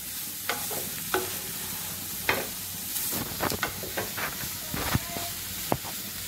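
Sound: vegetables frying and stirring in pan

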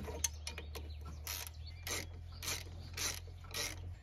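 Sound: ratchet removing 10 millimeter bolt on car

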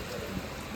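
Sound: rain

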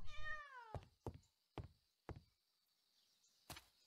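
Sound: cat meowing in the video game Travellers Rest

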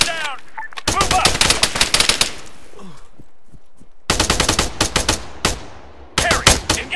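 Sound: machine gun fire in video game Arma 3 Apex

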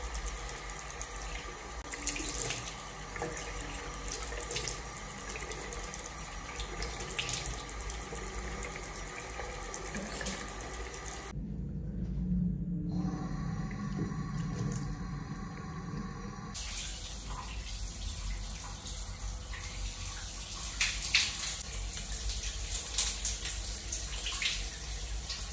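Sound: shower water running

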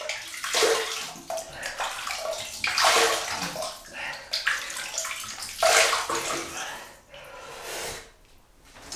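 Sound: water running while wetting a shaving brush and face

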